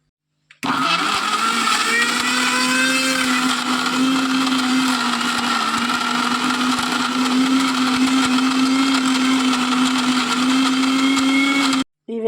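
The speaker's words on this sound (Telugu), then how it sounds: "మళ్ళీ కొంచెం వాటర్ వేసుకొని మిక్సీ పట్టుకోవాలి" A kitchen mixer grinder blends tamarind chutney with onion and water. It runs loud and continuous for about eleven seconds with a steady whirring drone, starting and stopping abruptly, with no talking.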